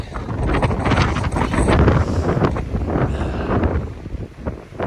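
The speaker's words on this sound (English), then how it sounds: "as expected, it's a little windy" Strong wind on the summit of Hawksbill Mountain buffets and roars across the microphone in continuous gusts, loud and close, with no other sounds.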